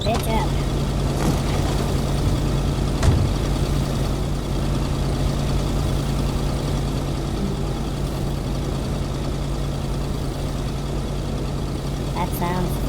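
A truck engine idles at a gas station in the video game KONA, a steady low rumble running throughout at close range, with a brief knock near the middle.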